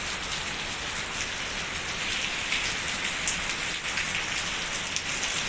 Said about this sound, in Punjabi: ਮੀਂਹ ਬਹੁਤ ਜ਼ਬਰਦਸਤ ਪੈ ਰਿਹਾ